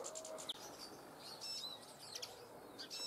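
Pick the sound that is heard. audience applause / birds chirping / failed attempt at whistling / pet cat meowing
birds chirping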